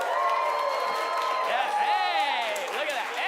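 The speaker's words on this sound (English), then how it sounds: "I want to hear what your best applause is on the count of 3." A crowd at a main stage show applauds and cheers, with whoops and shouts mixed into a steady, loud roar that carries on throughout.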